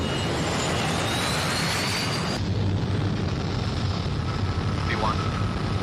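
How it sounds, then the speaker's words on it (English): Airliner jet engines roaring before takeoff, a loud continuous broadband rumble filling the whole stretch, with a brief rise in intensity partway through and no clear talk over it. "Flight attendants, please prepare for takeoff."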